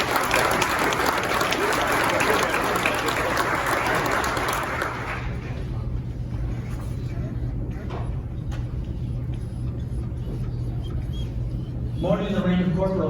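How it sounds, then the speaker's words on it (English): Audience applause at a county sheriff's department promotion and awards ceremony, a loud sustained round of clapping for the first several seconds that fades into room noise, followed by a brief voice near the end. "A round of applause for Corporal Abdallah."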